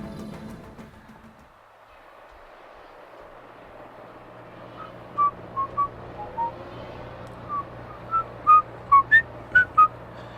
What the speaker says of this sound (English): That was me whistling.